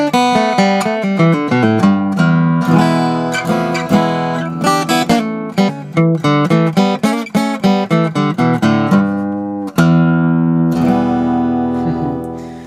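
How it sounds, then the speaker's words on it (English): A steel string acoustic guitar plays a bright, ringing melodic passage with quick plucked notes, closing on a sustained strummed chord. "that's the sound of sort of a standard steel string acoustic guitar"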